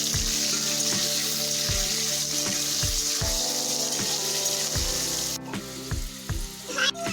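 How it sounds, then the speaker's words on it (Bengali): Potatoes frying in hot mustard oil with a pinch of turmeric, a loud close sizzle with bursts of crackle and spatter and a few clinks of a utensil against the pan, no talking. "এরপর আলুগুলো দিয়ে আলুগুলো ভেজে নেব।"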